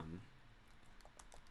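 Typing on a computer keyboard while notes on market research are jotted down, a quiet run of light key taps under steady room noise, with a brief low voice at the very start.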